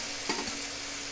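Chopped onion and slit green chilies are stirred in hot oil in a pan for a potato and bitter gourd fry. A brief spatula scrape comes over a steady, faint sizzle, with no voices.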